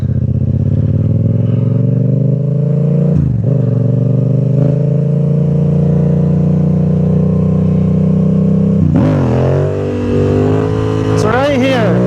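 A motorcycle engine idles and revs steadily close by, its pitch dipping and rising with each gear shift while the rider balances nearly still. A voice talks over the engine.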